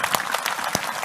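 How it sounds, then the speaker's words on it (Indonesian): An audience at an Indonesian religious and cultural talk gathering claps in a dense, steady round of applause, close and full, with no talk over it. "Tepuk tangan saya lagi untuk Mas Kirun."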